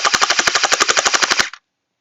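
An Anstoy AKM47 gel blaster fires a rapid full-auto burst of about fifteen sharp, evenly spaced cracks as gel balls burst, loud and close, then cuts off abruptly into silence.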